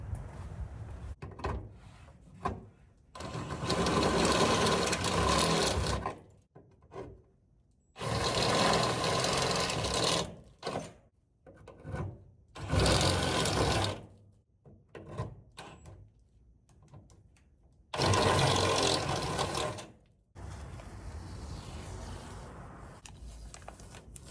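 A power drill with a step bit enlarges a hole in a car's firewall, coming in four long, loud, grinding bursts separated by short pauses, close and without talk.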